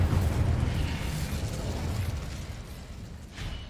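A fire spell is cast in the Hogwarts Legacy video game on PC at hard difficulty, giving a loud, close, roaring burst of flame. It rumbles heavily at first, then thins and fades over a few seconds, with no voices.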